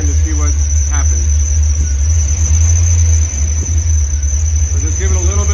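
Engine driving a welding alternator in weld mode, throttled by hand, makes a loud, steady low rumble throughout with a slight dip partway, while someone talks over it.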